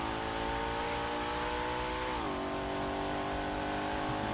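A Ford Mustang GTD's engine roars steadily at high revs on a Nurburgring lap, loud and close, dipping slightly in pitch partway through as it holds a high-speed corner, with no talk.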